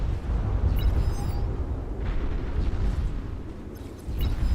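Explosions from bombing runs in a real-time strategy game with T3 units and D-guns, a dense rumbling barrage of booms continuing throughout with no clear gaps, loud and close.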